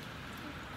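Steady rain falling outdoors as a constant, dense hiss of drops, even and unbroken throughout.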